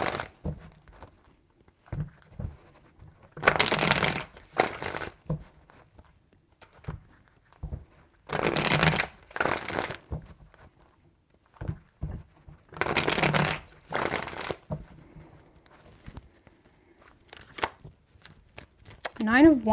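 Tarot cards riffle and shuffle in three distinct bursts of papery rustling, with quiet taps and handling noises between them in a quiet room.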